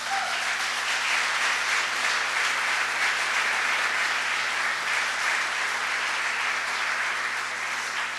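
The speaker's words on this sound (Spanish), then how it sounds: "Dale un aplauso a él." A church congregation applauds, a full, continuous roar of clapping that holds at a constant level for several seconds with a steady hum behind it.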